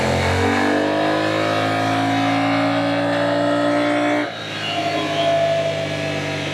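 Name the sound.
Kymco AK 500 scooter engine revving on a dynamometer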